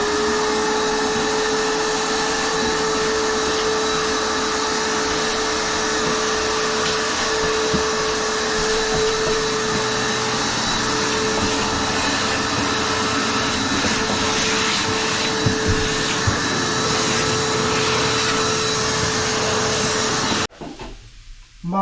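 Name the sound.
big vacuum cleaner cleaning sanded plywood floor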